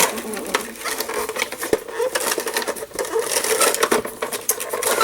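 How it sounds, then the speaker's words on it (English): A sticker sheet being fed through a handheld sticker machine at a craft table, giving a steady close rustling, scraping patter with small clicks for several seconds. "I don't think she's going to go through my sticker machine"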